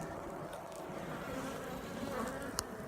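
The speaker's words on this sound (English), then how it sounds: "A lot going on in the beehive." A steady, dense hum of many honeybees buzzing together inside a beehive fills the air, continuous and close, with no voices.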